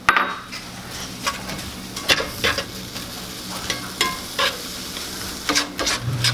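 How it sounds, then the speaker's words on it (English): Onions sauté in a hot pan while a spoon stirs them, a close crackling sizzle broken by frequent sharp scrapes and taps against the pan, with no talking. "Onions in, and then we're going to saute those for about 4 or 5 minutes"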